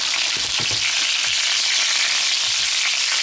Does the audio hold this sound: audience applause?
no